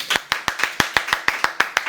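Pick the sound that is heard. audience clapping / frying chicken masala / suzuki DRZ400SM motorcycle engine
audience clapping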